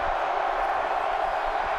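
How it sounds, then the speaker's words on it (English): A football stadium crowd at an XFL game between the D.C. Defenders and Seattle Sea Dragons roars in a steady, dense wash of cheering, loud and continuous throughout the brief moment. "Crowd is in it."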